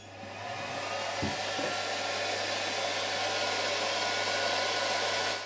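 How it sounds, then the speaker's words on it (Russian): The cooling fan of an HTRC T400 balance charger runs loudly, a steady whooshing hum that starts up, holds constant and stops, alone and close by. "здесь установлен очень шумный вентилятор, гудит он просто как самолет"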